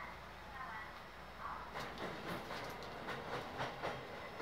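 Faint, distant rumble of a Kakogawa Line train departing a station, with a soft clickety-clack of wheels on rails and a muffled voice in the background.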